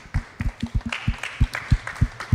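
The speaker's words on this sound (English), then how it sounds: "Round of applause for all the students that are here today." A small crowd at a local chamber of commerce event claps for visiting students; sparse, distinct individual claps in a brief, fairly quiet round.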